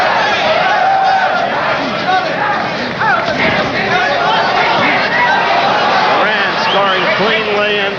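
Boxing crowd roaring and shouting continuously at a welterweight fight between Roberto Duran and Jimmy Heair as punches are thrown, a loud dense arena din with a commentator talking over it.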